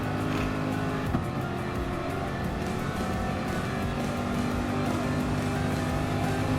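Race cars drive in Gran Turismo Sport during a Manufacturer Series exhibition race, engines droning loud and continuous with shifting revs as the pack runs laps.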